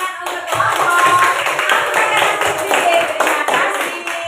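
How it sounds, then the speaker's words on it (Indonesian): A group of teachers in a coaching and supervision session clap for a small group, with brisk close claps and a few faint voices mixed in. "Tepuk tangan untuk kelompok"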